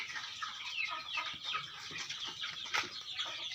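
A hen clucks softly on a gamecock farm, giving repeated low murmuring calls at close range in an uneven rhythm with no talk over them.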